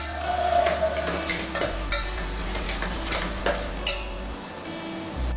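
Marinated prawns are stirred in a cooking pot for a one-pot rice dish, with continuous scraping and clinking of the utensil against the pot and a faint sizzle underneath, close and steady.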